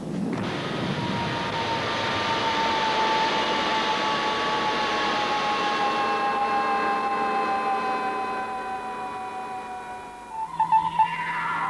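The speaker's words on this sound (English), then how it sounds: "Professor Matthew Mattick, are landing on the planet Robotvia to investigate the mysterious kidnapping of lots of robots." A spaceship from Fireball XL5 landing on a planet: a sustained whooshing roar with steady electronic tones that slowly fade, ending in a few brief clanks, with no speech.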